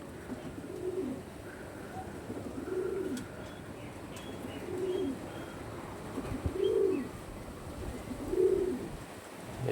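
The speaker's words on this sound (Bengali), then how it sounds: "বেগুনি পাঞ্জার পায়রা" Purple-footed pigeons from a breeding pair coo softly, five rhythmic low coos repeating about every two seconds over quiet background hiss.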